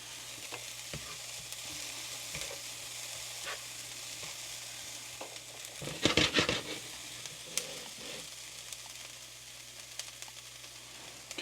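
Onions frying over just-above-medium heat in a HexClad pan, a low, steady sizzle with a louder burst of scraping and crackle midway, as if stirred.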